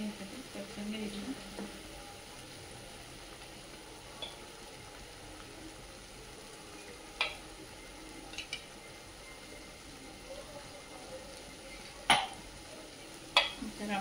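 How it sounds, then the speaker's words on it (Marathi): Spring onion greens are sautéed in a pan, with a faint low sizzle under occasional soft spatula scrapes and clicks. "छान असं 2 मिनिटं आपण हे करून घ्यायचं. परतून घ्यायचं."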